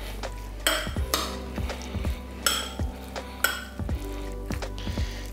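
Teriyaki chicken stirred in a wok, a spatula scraping and knocking against the metal in a steady rhythm of about one stroke per second, over a light sizzle, close and with no talk.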